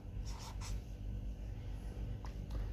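A pen scratching numbers onto paper, a few short, close strokes over a low steady background hum with no talking.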